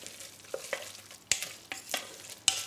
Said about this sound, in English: This needs no more than a stir